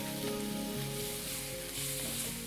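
Onion and tomato sauté in a hot pan with a dense, close sizzle that runs continuously through the short stretch, with a faint steady hum beneath and no voices.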